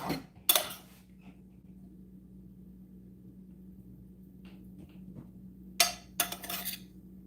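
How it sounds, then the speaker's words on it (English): A couple of clanks of a metal pan being handled, with a brief clink at the start and two more toward the end, quiet in between. "Then I'll get the other frying pan out"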